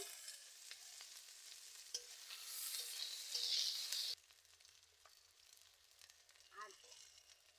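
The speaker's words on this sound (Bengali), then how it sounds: "কেটে রাখা পেঁয়াজ দিচ্ছি কাঁচা লঙ্কা দিয়ে দিচ্ছি" Chopped onions and green chilies hit hot oil with five-spice seeds, giving a quiet, steady sizzle that swells as they are stirred, then drops abruptly to a softer, faint crackle.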